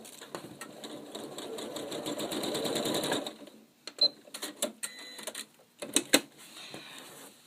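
Sewing machine stitching down quilt binding with a walking foot, running steadily for about three seconds, then stopping, followed by scattered clicks and short handling taps as the fabric is adjusted.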